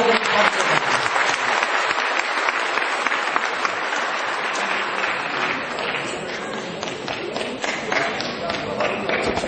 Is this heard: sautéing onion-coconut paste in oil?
no